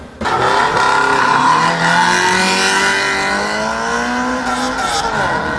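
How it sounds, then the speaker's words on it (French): A Peugeot 205 Rallye race car at the 2003 Arques-la-Bataille hill climb, its engine revving loudly and climbing in pitch through the gears, steady and close for several seconds. "entre en piste Daniel Ferré de l'écurie Porte Normande avec sa 205 Rallye"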